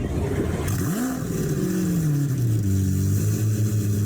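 Lamborghini Aventador SV engine starting in the Driving Empire racing game: a crank followed by a rising rev that settles into a steady, loud idle rumble heard alone.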